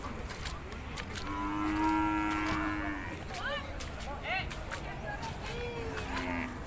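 Cattle and buffalo at a rural livestock market in Sikhoraphum, Thailand, with low lowing calls and moos rising over a busy crowd murmur and scattered knocks, fairly near and continuous.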